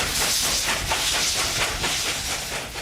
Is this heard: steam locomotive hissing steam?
yes